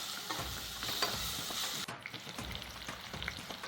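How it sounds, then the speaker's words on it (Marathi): Tomato and coriander frying in a hot tempering of onion for a pea, cauliflower and potato bhaji, giving a steady close sizzle with stirring scrapes throughout, no talk. "थोडी कोथिंबीर पण टाकूया फोडणीमध्ये।"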